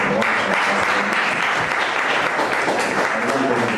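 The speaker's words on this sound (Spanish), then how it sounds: "a quien recibimos con un fuerte aplauso" Sustained applause from an audience at an academic colloquium, a dense, even patter of clapping at close range that holds steady throughout.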